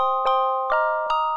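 Three bright bell-like notes from a synthesizer bell patch on a Roland Alpha Juno 2, each struck with a sharp attack and ringing overtones that sustain into the next, played alone and clearly.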